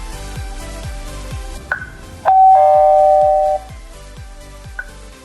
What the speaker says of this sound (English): You can choose different ringtone.